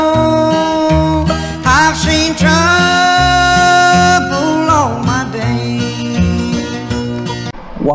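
The Stanley Brothers' bluegrass recording of "Man of Constant Sorrow" plays at full level, with bright, harmonically rich tones and shifting chords in a steady flow from start to finish.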